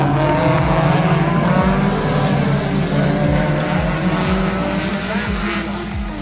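Race cars roar off at the start of a heat at the Victoria Day Speedfest, a loud, sustained engine drone with repeated rising passes sweeping by close.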